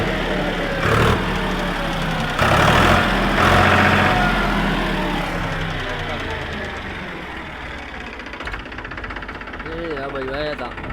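Tractor engine idling in rural Gujarat, a loud steady low rumble that runs throughout, with someone talking over it.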